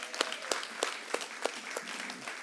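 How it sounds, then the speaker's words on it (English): A church congregation clapping along in a steady beat, about three claps per second, sharp and even over a soft wash of room noise, fairly quiet and a little distant. "Let's clap."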